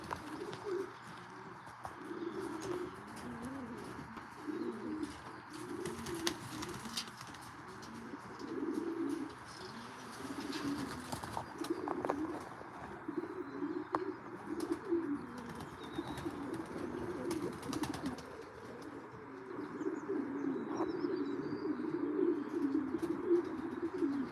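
Racing pigeons fly back to the loft, their soft cooing and scattered chirps continuing over a steady outdoor background, with occasional faint flutters through the stretch.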